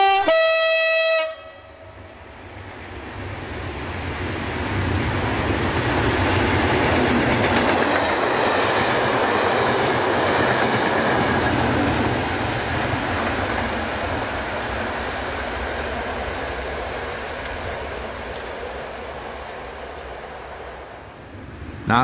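A 1980s South Wales freight train with several locomotives hauls wagons past, a loud, steady rumble and rolling wheel clatter that swells and holds for most of the clip, with no talk.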